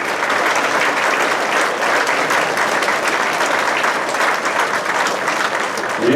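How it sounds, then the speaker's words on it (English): An audience standing to applaud Vietnam veterans at a commemorative evening: dense, sustained clapping from a large crowd filling the room, steady and loud throughout. "now let's give them the applause that they deserve"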